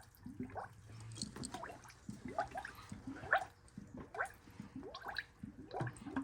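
Coolant gurgles and bubbles as trapped air escapes the cooling system of a 392 Dodge Durango after a water pump replacement, a close, quiet series of irregular glugs and wet bubbling pops.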